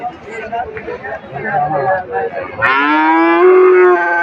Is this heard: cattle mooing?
yes